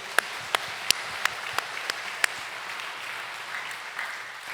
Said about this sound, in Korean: 하나님께 앞에 영광의 박수 올려드립니다.